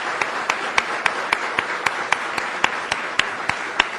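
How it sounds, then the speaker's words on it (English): Conference audience applauding hotel staff and university student volunteers at an ABET keynote, a steady wash of many hands clapping with a few sharper, louder claps popping out at regular intervals. "So please give them a round of applause."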